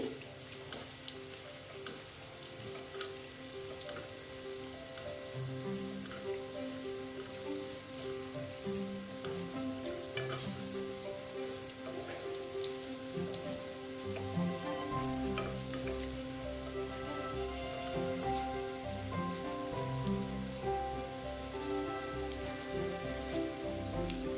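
Steady crackling sizzle of egg chops shallow-frying in oil, continuous and close, with faint clinks and background tones throughout.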